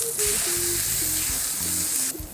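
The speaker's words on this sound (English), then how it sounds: "And we're gonna cook out zucchini" Sliced zucchini sizzling in a hot pan with black pepper and salt for a linguine, zucchini, cream and bacon dish; a loud, close, steady frying hiss that starts abruptly, with low clanks of the pan underneath.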